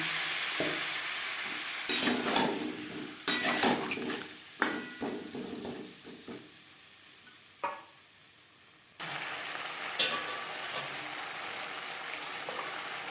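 Bengali rohu fish curry with giant taro, ground coriander and cumin and a splash of water, sizzles in a pan as a spoon stirs and scrapes, close bursts of clatter over steady frying hiss.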